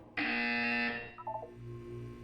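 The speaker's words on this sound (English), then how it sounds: "You will hear a buzzer." A loud electronic buzzer from the video game Portal 2 sounds once for almost a second, then fades into a few short, quieter electronic blips over a low background hum.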